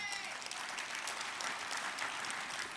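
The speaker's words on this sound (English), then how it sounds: "Yeah, you applaud that." A room full of business attendees at a Gulf Coast industry forum applauds steadily, a soft even wash of clapping heard from a distance.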